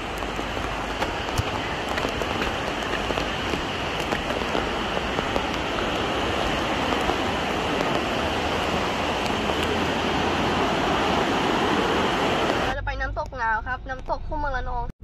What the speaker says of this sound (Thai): น้ำตกคู่เมืองระนอง